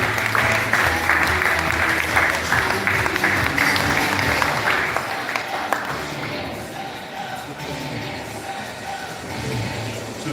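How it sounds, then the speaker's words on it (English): An audience at a graduation ceremony applauds a Prime Minister, with loud sustained clapping that thins out and softens toward the end, while some voices sound beneath it. "Please let's applaud the Prime Minister."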